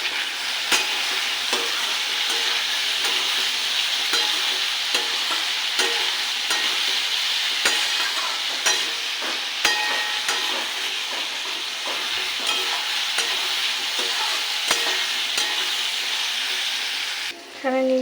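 Pointed gourd and potato pieces frying in oil with salt and turmeric, a steady close sizzle with repeated scraping and stirring clicks from a spatula, running unbroken and without talk.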